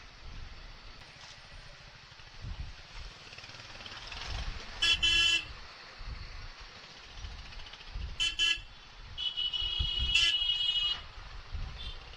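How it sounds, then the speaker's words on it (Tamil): Heavy city road traffic in Tamil Nadu, heard from a rider on a motorbike taxi: a steady engine rumble with several short car horn toots breaking through, a few of them clustered, and no clear talk. "பயங்கர டிராஃபிக்ங்க இங்கே"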